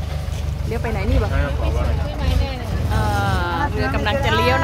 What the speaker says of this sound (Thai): นี่เรือกำลังสวนทางมาวู้เรือลำใหญ่เลย